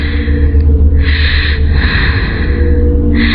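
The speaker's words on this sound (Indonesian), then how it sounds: "tiba-tiba suara nafas Dina terdengar semakin keras dari belakang" Loud, heavy breathing in a ghost story, close and rasping, with repeated inhale and exhale bursts over a low droning background.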